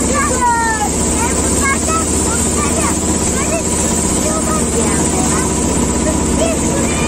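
A motorboat engine drones steadily throughout on Işıklı Lake in Çivril, Denizli, Turkey, mixed with wind buffeting and rushing water, while faint birdsong chirps in the background.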